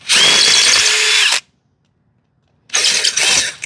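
Power drill drilling out a spinning rivet during electrical repair on a John Deere zero-turn mower, two loud close bursts of high whine separated by a second of silence.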